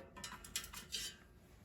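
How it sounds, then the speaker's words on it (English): Frozen cream cheese wontons go into a metal air fryer basket with a few quiet clinks and light rattles, close by and soft, with no speech. "I will put the cream cheese wontons in the air fryer basket in a single layer"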